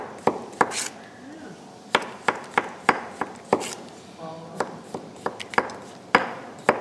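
A kitchen knife slices through a zucchini on a cutting board, giving a steady series of sharp, close chops in an even rhythm, with faint talk in the background.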